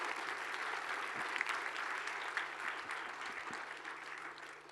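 Audience applause at a large live stage event, steady dense clapping from a big crowd sustained throughout, fairly distant and even, with no speech over it.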